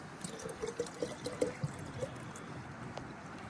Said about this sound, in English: we can pour it into a metal canteen cup